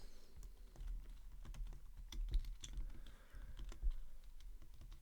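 Quick, irregular clicks of a computer keyboard as PHP code is typed, close up and fairly faint over a low background hum, with no talking.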